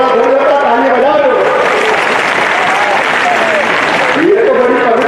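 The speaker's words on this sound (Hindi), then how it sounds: "घर का जो भी जोड़ा धो जाता ताली बजा दो" Dense, loud clapping from a large crowd at a political rally in Morena fills the whole stretch, with voices shouting and talking over it.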